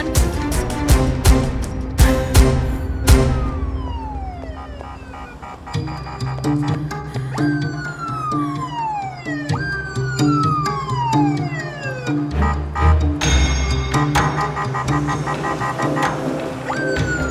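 A wailing emergency siren sweeps up and down repeatedly, loud and close, layered with rapid warbling tones and engine rumble.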